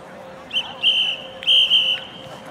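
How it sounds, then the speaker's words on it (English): Referee whistles at a college football game, several sharp shrill blasts, two long, over steady crowd noise in the stands. "Officials got a little bit excited with the whistles."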